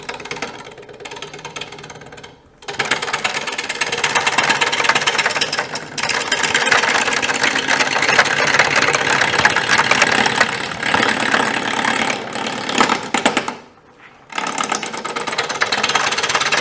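A wood lathe turning a bowl blank runs with a steady, broad whirring drone that drops out briefly twice, near and fairly loud, with no talking.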